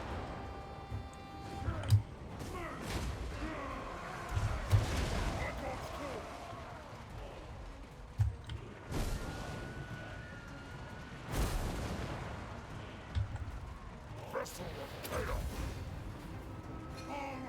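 Artillery cannon fire from Chaos Dwarf war machines in Warhammer 2: Total War, heavy booms landing at irregular intervals over a rumbling battlefield din, with someone talking throughout.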